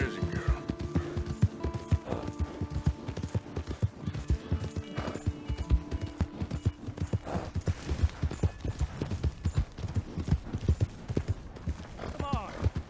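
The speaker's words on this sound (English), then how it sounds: "Hey! My horse!" Horse hooves clip-clop steadily in Red Dead Redemption 2, an even galloping rhythm close by, with a voice talking over it and a horse whinnying briefly near the end.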